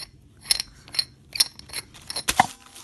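Metal clinks and scraping turns as the heavy metal bottom cap of an Ultrasabers lightsaber hilt is unscrewed, a few separate sharp metallic ticks and rattles close up with quiet gaps between.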